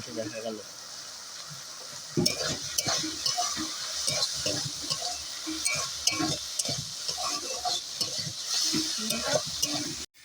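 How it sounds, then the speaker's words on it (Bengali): Spices and turmeric being stirred in a frying pan, a soft sizzle under repeated close scraping and clinking of a spatula that continues for several seconds after a quiet start. "এবার আবার কিছুক্ষণ নাড়িয়ে নিলাম"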